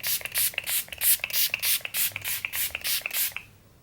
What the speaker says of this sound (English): I'm going to spray my LA Girl setting spray, fixing spray